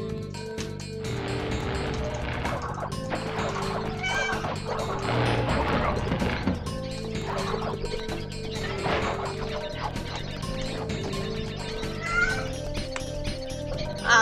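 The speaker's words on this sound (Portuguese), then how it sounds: "Agora o gato vai ficar fazendo barulho." A cat meows repeatedly in Crash Bandicoot 2, its cries rising and falling over layered game music, with splashes and clattering effects mixed in and no speech.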